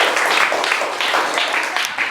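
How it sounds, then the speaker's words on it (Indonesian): A classroom audience of students claps after a group presentation, a brisk burst of many hands with uneven rhythmic peaks that tapers slightly at the end. "Tepuk tangan ya."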